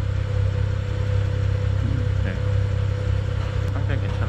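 A BMW F10 535i engine runs steadily at idle after a vibration repair, a continuous low hum with a steady tone, heard close and fairly loud throughout.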